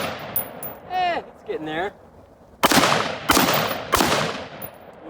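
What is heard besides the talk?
Aero Precision ATLAS M4E1 AR rifle shots fired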